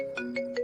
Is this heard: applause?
no